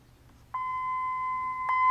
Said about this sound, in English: And this is the note C, a couple octaves higher than middle C.